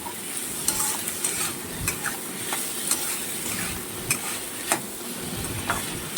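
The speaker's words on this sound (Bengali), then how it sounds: "এই যে ডালটাকে ভালো করে কষাই করতে হবে।" Lentils and meat stir-fried together in a pan make a steady, close sizzle, with repeated scraping strokes of a spoon against the pan and no talking.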